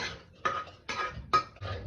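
A metal pot and utensils clatter while a tadka is added to a black chickpea curry, giving four sharp clinks and scrapes at a steady, roughly half-second rhythm, close and alone.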